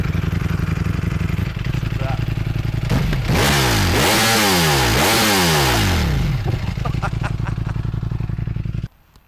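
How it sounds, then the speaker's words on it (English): A warmed-up Ducati Panigale V4S on its stock exhaust idles loud and close, then gets revved hard several times in a row before it drops back to a rough idle and cuts off. "So let's fire it up so you guys can hear what this machine sounds like."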